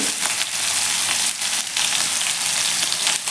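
Cumin and chopped green chilies sizzling in hot oil in a pan, a loud continuous crackling hiss with a few brief louder spits, no voices.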